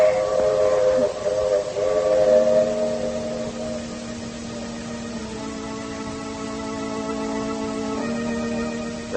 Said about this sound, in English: Oh, the train is coming into the station now,